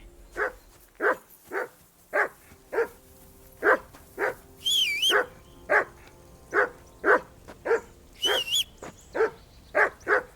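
A dog in the game Kingdom Come Deliverance 2 barks in a steady series of sharp, evenly spaced woofs, close and clear, with a couple of brief high whines mixed in.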